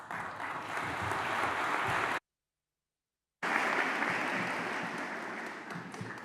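An audience applauds at a Cambridge University graduation ceremony: dense, sustained clapping from a large crowd, broken by a brief silent gap before the applause resumes at similar strength.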